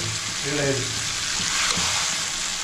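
Mutton with spices fries in a pan, giving a broad steady close sizzle with faint stirring movements, no voices.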